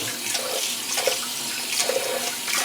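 Water runs steadily from a bathroom tap into a sink as it is rinsed out, a close, even splashing hiss heard alone with small surges.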